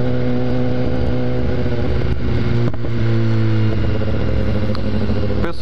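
A BMW S1000R motorcycle engine rumbles loudly up close through a throaty aftermarket exhaust, its deep idle rising and falling with small throttle blips.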